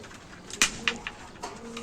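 Pigeons coo softly nearby while feeding in a loft, low murmuring calls mixed with light pecks and fluttering.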